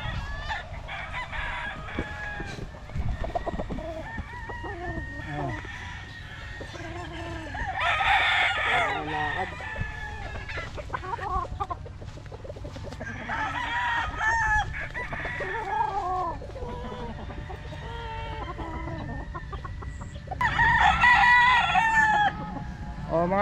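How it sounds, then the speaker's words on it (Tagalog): Several gamecock roosters crow loudly at intervals, with softer clucking and chicken chatter between the calls, close by outdoors on a fighting-cock farm. "gustong magkaroon ng manok ng sagupaan, narito na po"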